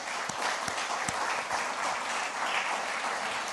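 Congregation at a church service claps together, a steady wash of applause from many hands, moderately close, with a few sharp individual claps standing out near the start.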